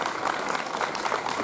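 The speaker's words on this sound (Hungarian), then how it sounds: "Még egy nagy tapsot tessenek szívesek adni" Steady audience applause at a folk dance ensemble performance, a dense even clatter of many hands close by with no voices over it.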